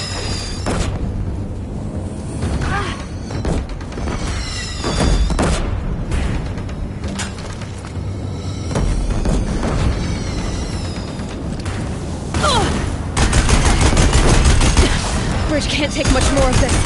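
Battle gunfire at a bridge in Horizon Zero Dawn, loud repeated shots and booming impacts under bursts of talk, with a denser, heavier volley near the end.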